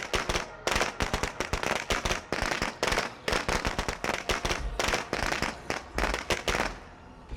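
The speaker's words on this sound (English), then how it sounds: "Wondering if he's going to wind up hearing the firecracker," A firecracker string going off in the zombie survival game State of Decay 2, a dense, loud run of rapid sharp pops and bangs in uneven bursts that continues nearly nonstop for several seconds.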